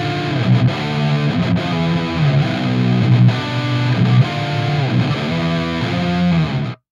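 Electric guitar played through a Majik Box Krush Distortion pedal into an amp, a thick, heavily saturated tone with chugging rhythmic riffs and sustained chords, loud and alone, cutting off abruptly at the end.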